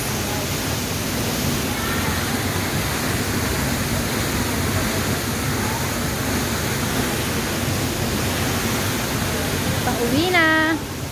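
Steady roaring rush of falling water at Nunok Falls fills the whole stretch, loud and continuous, with a brief voice-like tone near the end.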